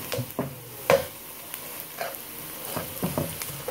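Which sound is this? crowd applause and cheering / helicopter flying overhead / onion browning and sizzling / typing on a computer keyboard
onion browning and sizzling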